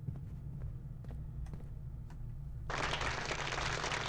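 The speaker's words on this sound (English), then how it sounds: "Thank you for the applause." Applause-like broadband clatter of many hands clapping bursts in abruptly partway through, loud and dense, following a stretch of low hum with a few scattered clicks.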